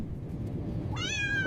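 A cartoon cat gives one clear rising meow partway through, over a steady low background murmur.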